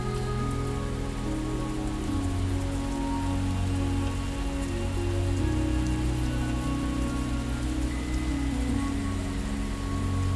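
Steady rain falling in a video game, a constant dense hiss of drops that fills the whole stretch evenly and sits over a low sustained ambient tone, with no talking.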